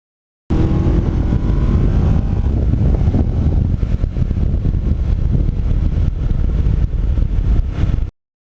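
A Kawasaki Ninja uneven-firing twin engine heard from the rider's seat while riding, a loud continuous throbbing drone mixed with heavy wind rush, steady throughout without talk.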